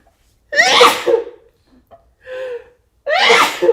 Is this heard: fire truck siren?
no